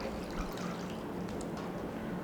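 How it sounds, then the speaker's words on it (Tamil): A cup of milk trickles into a cooker while corn alwa is being made in a home kitchen, a soft, quiet, steady pour lasting about two seconds with no voices. "அதுக்கப்புறம் பால் வந்து 1 கப்பு பால்."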